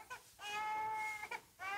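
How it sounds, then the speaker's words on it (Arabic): A toy doll gives a baby-like cry indoors, two short wails followed by a long, steady high-pitched cry with a brief break and another wail starting, loud and close. "هيدي اللعبة تبكي مثل البيبي."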